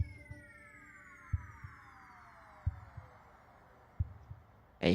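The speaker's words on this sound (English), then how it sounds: "a heartbeat." A heartbeat sound effect built into a music track thumps softly in a slow, regular rhythm, paired low beats recurring under sweeping descending synth tones.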